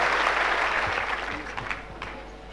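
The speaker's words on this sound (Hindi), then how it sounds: "ये सारी ऑडियंस आपको सम्मान देने के लिए उसकी जगह पे से खड़े होके ये तालियों से आपका सम्मान कर रही है।" A standing audience gives a sustained round of applause, dense clapping that slowly thins toward the end with no voices over it.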